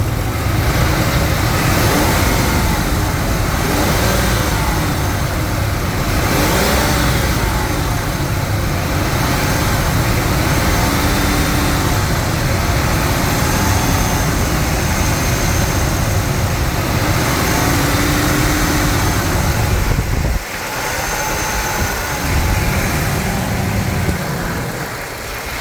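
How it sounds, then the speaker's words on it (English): A 5.4 liter 2V engine running loud and close after repairs, a continuous heavy roar with swells as it is revved, dropping briefly near the end. "Let's hear this rev up one more time before I pack it up."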